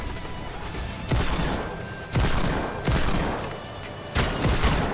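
Bursts of rapid Desert Eagle pistol gunfire in a video game erupt in four loud volleys, each a dense crackle of shots separated by brief lulls.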